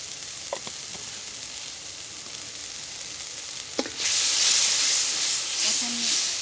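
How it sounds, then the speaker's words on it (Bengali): Spice paste with green and dried chillies sizzles steadily in a pan for a spinach and small-fish curry, a soft hiss that swells louder midway, with a few faint clicks. "এখন মশলাটা ভালোভাবে কষিয়ে নেব।"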